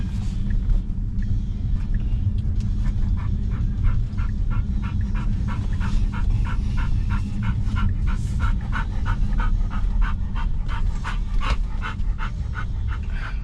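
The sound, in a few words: puppy panting and whining in a car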